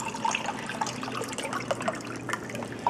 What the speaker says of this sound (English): and I pour it in there with the almonds.